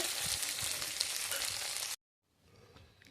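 Potatoes frying with tempering spices in a home kitchen, a loud dense sizzle that cuts off abruptly, then a faint low hiss creeps back after a brief silence.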